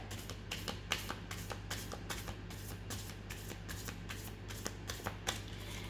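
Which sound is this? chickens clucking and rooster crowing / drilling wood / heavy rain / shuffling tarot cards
shuffling tarot cards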